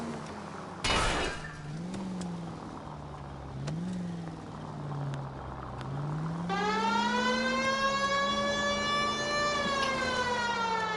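Police sirens from the video game L.A. Noire wail in rising and falling sweeps over car engine noise, with a second, brighter siren joining loudly partway through.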